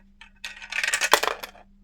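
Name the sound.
dice dropping down a staircase dice tower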